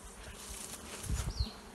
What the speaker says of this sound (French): Bon, là, tu vois, il y a quelques abeilles.